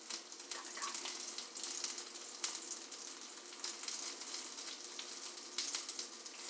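Cheesy chicken fritters sizzle and crackle steadily in a frying pan, a continuous close hiss dotted with sharp pops, with no one talking.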